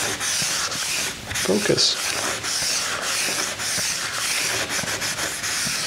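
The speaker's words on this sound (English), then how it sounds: "I'm rubbing this in pretty good" A lint-free rag rubs wood stain firmly into a rustic pine door, a steady broadband scrubbing hiss that continues throughout, with someone talking over it.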